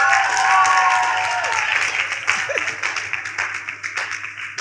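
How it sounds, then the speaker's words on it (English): Applause from an audience greeting a woman who has just read a tongue-twister aloud at a Python developer talk, a dense burst of many hands that starts loud and slowly thins and fades over several seconds. "A round of applause for her again."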